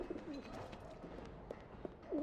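Pigeons coo softly in a coop within the video game Alice: Madness Returns, a few brief low rounded calls repeating over a steady ambient bed of game background sound.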